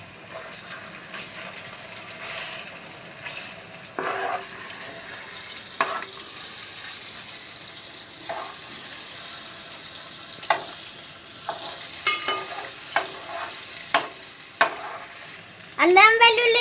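Ginger garlic paste fries with green chillies and onions in a pan, giving a steady soft sizzle with occasional stirring scrapes and clinks, a louder sizzling burst near the end.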